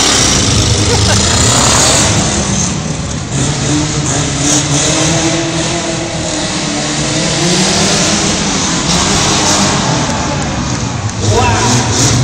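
A Jeep Cherokee and a Subaru race at a Tough Trucks event, engines revving and roaring loudly with surges and dips, mixed with crowd noise and voices speaking over the racket.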